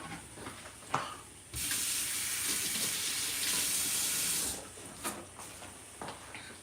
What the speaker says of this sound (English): So let me wash it real quick.